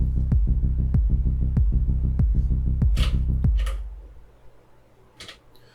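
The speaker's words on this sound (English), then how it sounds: "So now you can hear that pumping from the sidechain." Bass line on an Elektron Digitakt sidechain-compressed by the kick, pumping in a steady rhythmic throb on each beat for about three and a half seconds before the sound drops away into a quiet tail.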